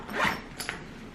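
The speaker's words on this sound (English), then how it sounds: "So I'm just gonna unzip." Quick close unzip of a zipper on a Beis weekender bag, a short raspy zip followed by a second brief tug, all within about a second with no voices.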